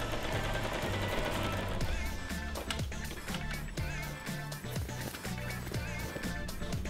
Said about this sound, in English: Okay, it's time to sew.